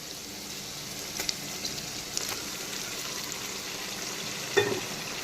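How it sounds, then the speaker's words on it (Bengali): Marinated mutton sizzles in a pan of fried onions, a continuous moderate hiss and bubbling with a few sharper spits and a louder crackle near the end. "এখন দিয়ে দিচ্ছি ম্যারিনেটেড মাটন।"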